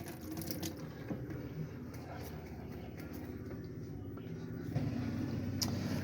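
Hot water runs from a tap inside a Swift Corniche caravan, a soft, steady trickle and splash heard fairly close, with light clicks and small knocks over it.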